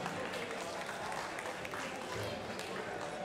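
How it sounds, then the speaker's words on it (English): Crowd applause for two fighters after a Netherlands vs Greece combat bout, a steady wash of clapping and arena noise under a faint voice. "Give them a big applause for the two fighters"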